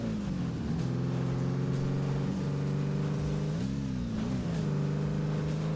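An ATV engine in the ATV Offroad Fury 4 video game, droning steadily and revving up and down in pitch while driving, loud and continuous without talk.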